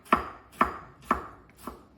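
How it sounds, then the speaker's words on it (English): A very sharp knife chops through tomatoes on a board, four crisp evenly spaced cuts, close and distinct with quiet gaps between them. "And we're just chopping it."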